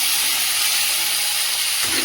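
Mixed vegetables tipped into fried spices in a hot pan sizzle loudly and steadily in a continuous bright hiss, close up, with no voices.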